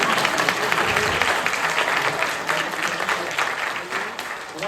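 An audience at a talk on healing the brain after brain trauma claps steadily and loudly, a dense patter of many hands that keeps going without a break.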